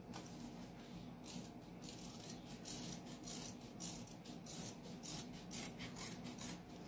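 Fabric being cut directly with scissors while making a flip-flop holder, giving a steady close rasping, rubbing texture with repeated brief crisp snips throughout, no voices.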